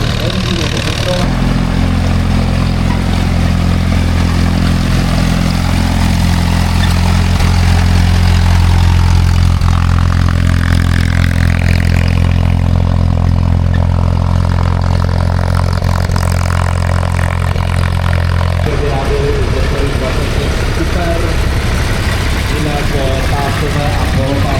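The petrol engine of a vintage HT 30 tractor runs steadily at a machinery show, a loud, close, rumbling idle that continues throughout and shifts in tone near the end, with a voice speaking over it.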